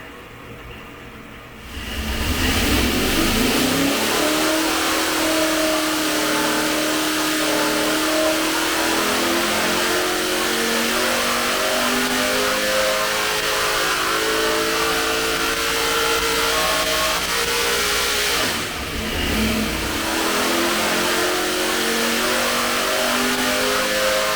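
A race car engine in an A-Mod build revs hard on a dyno after a timing change to 34 degrees, roaring loud and steady with climbing pitch for about twenty seconds, with a brief dip before pulling again.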